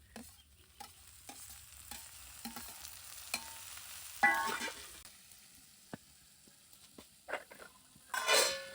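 Tomatoes frying in a pan for a fish curry, stirred with scattered scraping strokes over a low sizzle that builds into louder bursts near the end.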